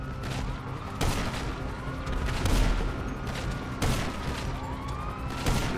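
Gunfire in the GTA Online video game comes as sharp, repeated bursts of shots at roughly one-second intervals over a dense, roaring game soundscape, loud and close, with no speech.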